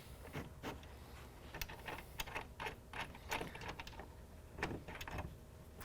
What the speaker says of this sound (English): Now we can go ahead and finish tightening down this clamp.